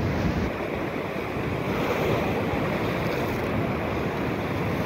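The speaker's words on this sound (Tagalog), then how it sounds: "Grabe, ang lakas ng alon." Strong ocean waves crash and wash continuously at a shoreline fishing spot, a loud, dense roar with wind buffeting the microphone and no voices.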